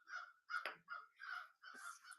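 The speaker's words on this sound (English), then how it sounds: "That murder of crows." A murder of crows cawing, five harsh drawn-out calls in quick succession, moderately near and faint, with no talking.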